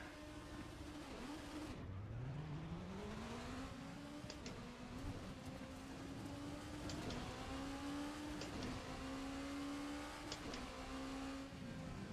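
Prototype race car lapping Bristol in the Assetto Corsa game, a steady loud engine drone climbing in pitch through the gears with brief shifts, continuous with no talking.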